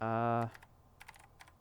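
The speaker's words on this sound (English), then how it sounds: "What you typing there? I can hear you typing." A brief tone cuts off, followed by a few quiet, scattered clicks of typing on a keyboard nearby.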